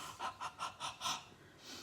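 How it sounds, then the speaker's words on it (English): Several short, breathy puffs of air onto a rubber stamp in quick succession, close and soft, followed by a longer fainter exhale. "And then give it a heavy breathe."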